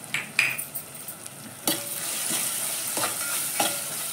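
Spices such as Kashmiri red chili powder, garam masala and coriander powder sauté in hot oil with a soft sizzle, broken by several sharp spoon taps and scrapes against the pan.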